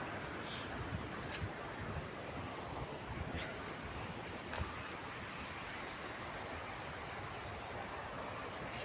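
Flood water rushes over farm fields past a broken embankment, a constant broadband roar with faint splashes here and there, heard from nearby and fairly quiet.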